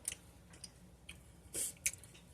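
Homemade gluten-free chili cheese corn chips, crispy and airy, crunch in short sharp bites while being eaten, a few quiet close-up crackles over a couple of seconds.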